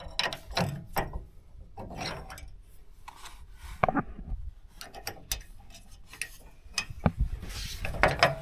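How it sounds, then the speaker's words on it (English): Manual side puller winch clicking through its ratchet to drag a stuck truck in the desert, with short bursts of close metallic clicks and pauses between strokes. "I'm thinking I'm going to try using my side puller on this today."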